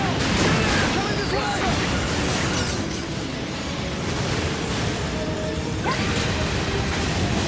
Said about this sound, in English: The plasma launcher, on the other hand, only has the one shot, so it uses energy as soon as I fire it